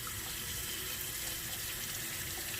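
Tap water runs steadily into a container to rinse it out, a continuous, fairly faint splashing flow near a sink with no voices.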